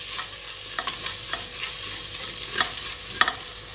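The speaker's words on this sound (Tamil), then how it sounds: "நம்ம அந்த ஆயிலே இந்த பிரியாணி மசாலாவும் மிளகாத்தூளும் சேர்த்து வதக்கிட்டோன்னா பிரியாணிக்கு நல்லா கலர்" Biryani masala and chili powder stir-fried in oil give a close, steady sizzle, broken by several sharp scrapes and taps of a spatula against the pan, with no talking.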